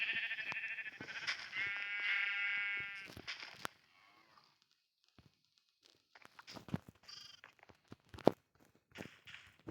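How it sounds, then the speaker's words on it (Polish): Minecraft sheep give a few nasal bleats, one drawn out, mixed with blocky game footsteps and small clicks, fairly quiet and with no talk over them. "Owcy, bo wy za chwilę mi zginiecie."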